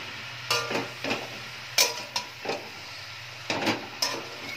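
Spinach with spices being stirred in a pan for a palong shak ghonto, heard as a series of about eight distinct scraping strokes of a spatula, separated by short pauses, over a quiet low background.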